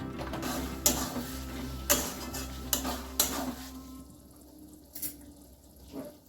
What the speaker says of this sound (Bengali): মশলাগুলো কষানোর জন্য সামান্য একটুখানি জল দিলাম